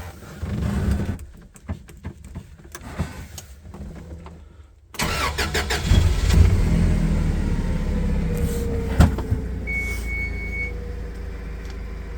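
A Toyota 02-8FGF18 compact forklift engine cranks and catches, settling into a steady low rumbling idle after a quiet stretch with some handling noise.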